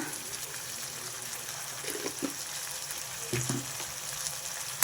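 Tomatoes cook in a pan with coarse salt, giving a steady, soft sizzle throughout. A few faint clinks and stirring sounds come through near the middle and the end.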